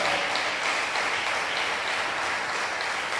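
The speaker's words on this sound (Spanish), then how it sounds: "Dele fuerte las palmas al Señor en el nombre de Jesús." A church congregation claps their hands steadily and loudly throughout, a dense, continuous wash of applause with no break.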